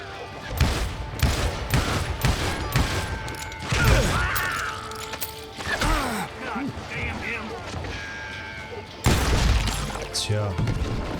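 Rapid gunshots and bursts of gunfire in a saloon shootout in the video game Call of Juarez: Gunslinger, with loud cracks, shattering and mechanical clacks, a pause partway through, then another heavy burst.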